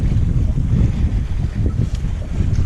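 Strong, steady wind buffeting over a 12-foot kayak out on open water, a continuous low roar of gusts and microphone rumble with faint water movement underneath, no voices.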